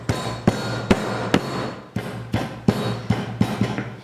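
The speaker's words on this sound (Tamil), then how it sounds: "கூடவே ஒரு பச்சை மிளகாயும் போட்டு தட்டிக்கலாம்" Repeated dull pounding strikes, about ten evenly spaced thuds of a pestle crushing green chili in a mortar, close by over a low steady hum.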